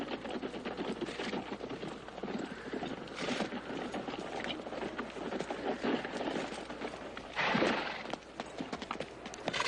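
Rapid hoofbeats of several horses galloping, a continuous rumbling clatter with a louder surge near the end, no talking.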